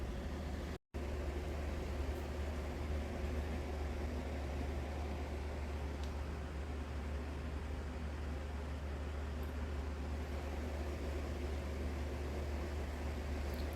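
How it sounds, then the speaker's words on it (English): A simple homemade electric motor powered by D-cell batteries spins over a ceramic magnet, giving a steady, low continuous hum and whir with no voices. "So we're gonna just watch how this little motor works."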